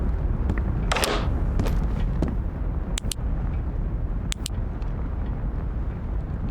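A gunshot from the game Road to Vostok rings out once as a sharp burst over a steady noisy ambience, followed by a few fainter, clipped cracks.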